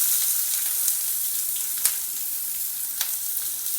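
Onion fries in a pan with dried red chili for dal fry, making a bright, even, close sizzle with a few faint clicks and scrapes from stirring.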